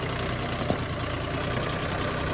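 A Kubota ZL1 225 mower tractor engine runs steadily nearby after a stuck valve was fixed, a loud even idle with a dense low rumble and constant mechanical clatter, no voices.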